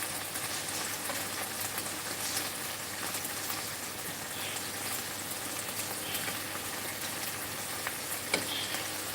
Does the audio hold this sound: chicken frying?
yes